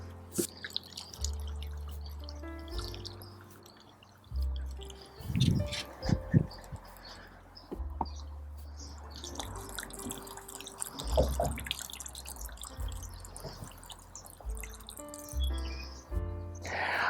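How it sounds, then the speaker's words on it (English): Water poured onto potted plants on a back patio, with intermittent splashing and dripping bursts of moderate loudness over about seventeen seconds, no talking. "Now I'm going to water these guys and they will be all ready to go."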